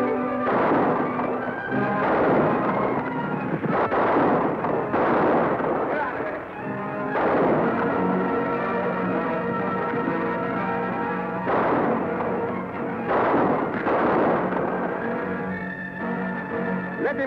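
Gunshots in a 1953 western TV show, several loud sharp bursts spread across the clip with galloping and shouting beneath, dense and close, mixed with other action sounds.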